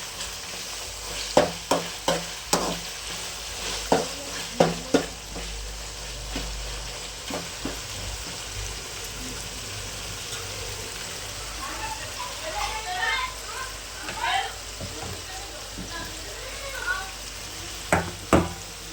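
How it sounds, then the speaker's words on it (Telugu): Chicken pieces frying in hot oil in a pan, a steady soft sizzle with scattered scraping clicks from stirring, a voice talking over the cooking at times. "నూనెలో వేగేంతసేపు వీటి కలుపుకుంటూ మంచిగా ఉండాలి."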